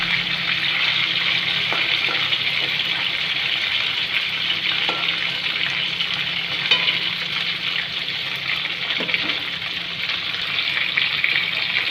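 Cabbage sizzles and fries in hot oil in a kadai for a cabbage, potato and tomato curry, a steady loud crackling hiss with occasional stirring clinks, no voices.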